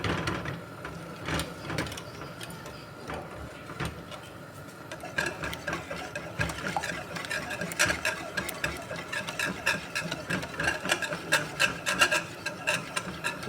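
Chocolate and cornflakes mixture stirred by hand, a dry scraping and rustling with repeated taps of the utensil, getting busier and denser partway through.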